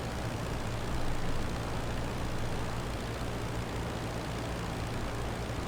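WWI biplane engine in Rise of Flight running below full throttle with radiators partly open: a loud, steady, rough propeller drone that holds without a break throughout.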